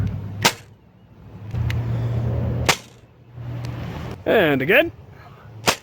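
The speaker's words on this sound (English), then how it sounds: "firing a single Mega Dart." A modified Nerf Baron shotgun pistol blaster fires single Mega Darts with two loud, sharp pops a couple of seconds apart, and someone speaks briefly between shots.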